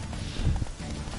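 A video game horse gallops briefly, a few quick hoof thuds clustered in a short burst over low background game noise.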